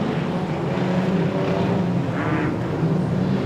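Street stock race cars roar around a speedway oval in a C-Main national title race, a loud steady wash of engines with rising and fading passes.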